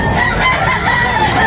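A rooster crows loudly and close at a chicken market, a single sustained crow filling the short moment with dense, harsh tone and no talk over it.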